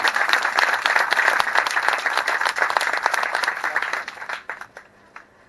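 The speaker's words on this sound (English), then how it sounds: "Let's give them all a round of applause" Audience at a school groundbreaking ceremony giving a warm round of applause, dense steady clapping that thins out and fades to a few scattered claps at the end.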